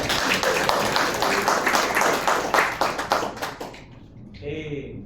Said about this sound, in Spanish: Vamos a darle un aplauso a Palestina